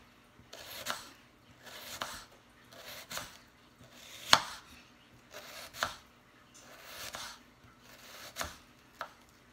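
Knife slicing through an onion on a cutting board, about a dozen crisp cuts in a loose, even rhythm, each with a sharp tap of the blade on the board, close and fairly quiet with no talk.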